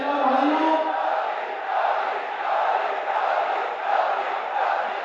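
Large open-air election rally crowd in Akola, Maharashtra, gathered for Chief Minister Yogi Adityanath, producing a steady, loud roar of massed voices with rising and falling swells of chanting and cheering, no single speaker standing out.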